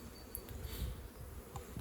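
Honey bees swarm around trap hives in the open, heard from about ten metres away as a faint, steady buzzing hum with no voices.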